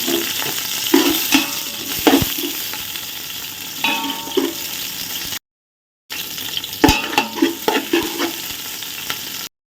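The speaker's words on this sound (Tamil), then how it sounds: "அடுத்தது ஆனியனும் போட்டு வரக்கலாம்" Onions frying in oil with cinnamon, cloves and spices in a pan for chickpea biryani, a steady sizzle under bursts of stirring and scraping, with a brief silent gap midway.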